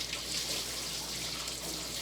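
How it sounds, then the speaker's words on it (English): Water sprays steadily from nozzles while a dog is being rinsed of conditioner, a dense continuous hiss with no pauses, fairly loud and close, with no talking. "I'm just using nozzles to push the water a little further into the skin"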